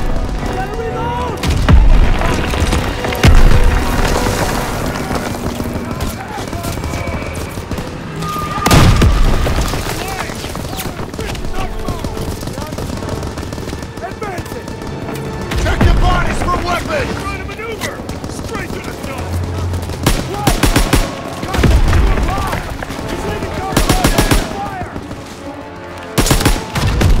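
Gunfire rattles through a Call of Duty: WWII battle scene, with repeated loud, sharp bursts and heavy booms at irregular moments over a dense combat din, and voices shouting at times.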